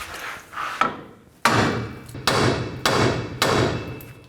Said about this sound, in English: carefully take a hammer and just give it a tap right there